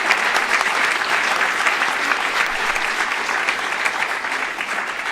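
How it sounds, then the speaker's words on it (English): Sustained audience applause at a European symposium held at HEC, a dense, steady wash of many hands clapping close and loud throughout, with no speech over it. "please give our moderating team a big hand of applause"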